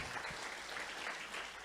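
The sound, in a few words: congregation applauding in church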